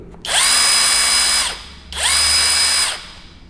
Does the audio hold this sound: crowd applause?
no